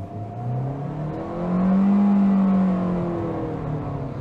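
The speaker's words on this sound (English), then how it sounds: "You can definitely hear that engine working" A 2022 Hyundai Venue compact SUV engine revs up and accelerates steadily, its rising drone swelling loud near the middle before easing off, heard from inside the vehicle.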